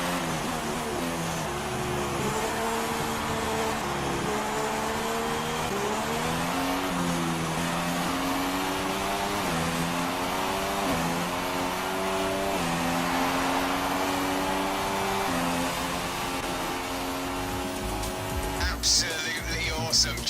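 Formula 1 race cars from the F1 2016 game scream past in a continuous high-revving whine, the pitch climbing and dropping with each gear shift, loud and sustained, with a voice speaking over the engine noise.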